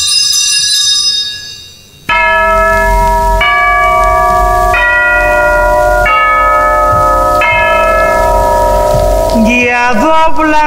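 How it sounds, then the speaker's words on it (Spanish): Church bells toll loudly, sounding successive strokes roughly every second or so with long ringing overtones that overlap, plus a faint patter like rain beneath, no talking. "Ya doblan las campanas"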